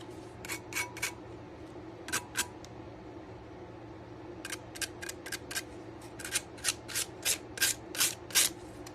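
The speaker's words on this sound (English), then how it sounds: "I've got a little piece of sandpaper. There's a few edges that just need a little" Short scraping rubs of a small piece of sandpaper along the edges of a craft piece, a trinket dish or tiered stand, in separated bursts, then a quicker run of strokes, close and fairly quiet, with no talking.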